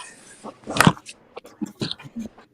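A dog whimpers and lets out a few short yips and whines in a kitchen while food cooks, close and fairly loud, in scattered bursts.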